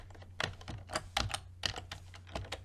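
Fingers type on a computer keyboard in quick bursts of crisp, close key clicks, with short pauses between groups of strokes. No one speaks.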